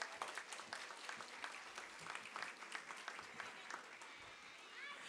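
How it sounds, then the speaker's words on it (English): A school audience claps for a dedication assembly, a sustained round of fairly close applause of many hands that keeps going for several seconds. "Let's give a round of applause for Panda."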